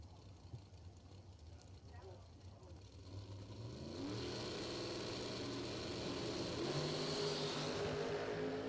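Dragsters launch off the line at a bracket racing event. A low engine rumble under an announcer's voice builds into loud, rising revving roars that swell and carry through to the end.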